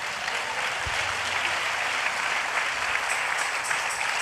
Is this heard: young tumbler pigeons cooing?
no